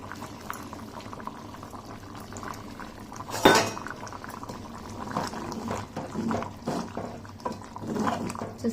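Thick curry made with ramulakaya simmering in a pot, a soft continuous bubbling and gentle popping at low volume, with one brief clatter of a utensil partway through.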